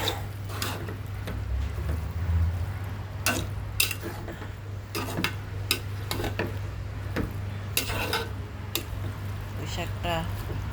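Spoon stirring and scraping food in a pan over a weak, low gas flame, with scattered clicks and knocks and a faint low hum throughout, while someone talks over it.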